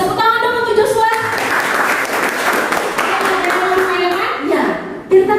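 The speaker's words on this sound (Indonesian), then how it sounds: "Tepuk tangan dong untuk Joshua." Students in a classroom applauding a classmate after an answer, a dense, fairly loud burst of clapping that fills the room while children's voices chatter throughout.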